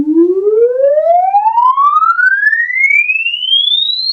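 A single Minimoog synthesizer tone with a slow attack, one sustained note gliding steadily upward in pitch over several seconds, loud and alone with no talk.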